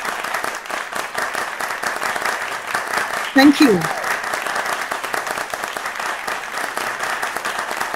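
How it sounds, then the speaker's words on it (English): Sustained audience applause for the debaters at a forum on legalising medical cannabis in Malaysia, dense steady clapping filling the whole span while a speaker briefly says thanks over it partway through. "please give a big round of applause for all of you,"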